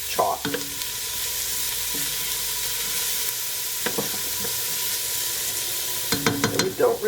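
A tablespoon of chopped garlic sizzles in a pan with softened vegetables for a vegan dish, a constant loud hiss broken by several clattering stirs near the start and a burst of scraping at the end.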